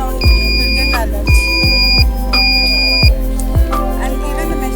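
Repeated electronic buzzer alarm from a home power protection system warning of low or high voltage: loud steady tones sounding in bursts of about a second with short gaps, over a constant low hum.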